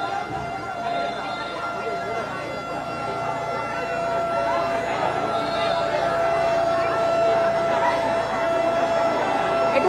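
A fire service siren wails steadily at a distance as crews approach a rooftop blaze on a large house in Shewrapara, Mirpur, Dhaka, sounding continuously over a murmur of crowd chatter for about ten seconds.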